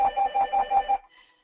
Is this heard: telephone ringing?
yes